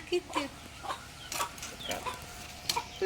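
Chickens cluck in short, scattered bursts close by at a village home, with faint talking and background clatter mixed in.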